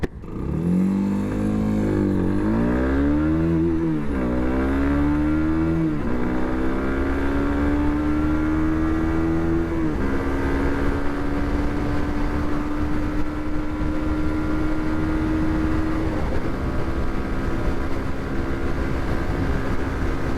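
A Zontes ZT125C 125cc cruiser motorcycle accelerates hard through the gears, its engine note climbing and dropping with each shift before settling into a long, steady high drone in top gear, loud and close with no talk.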